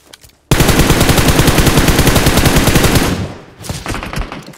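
Machine gun fire in a battle royale video game, a loud, rapid sustained burst lasting about two and a half seconds, then fading into scattered quieter shots.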